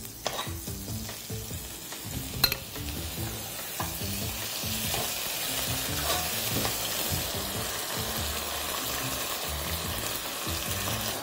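Chicken with sesame and lemon frying in a hot pan, giving a continuous even sizzle for several seconds with a few light clicks and scrapes early on, close and unaccompanied by speech.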